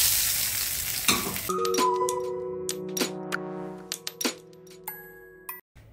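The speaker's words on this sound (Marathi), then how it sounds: "मोहरीचा तडका घालून घेते मी" Mustard seeds popping in hot oil for a Maharashtrian metkut tempering crackle and sizzle loudly at first, then settle into scattered pops, clinks of a metal utensil and a ringing pan tone, close by and without speech.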